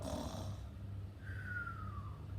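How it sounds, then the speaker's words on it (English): A soft, low snore held under a steady hum, with one rising-then-falling tonal whistle partway through; quiet and fairly close. "Mr. Tortoise began to snore."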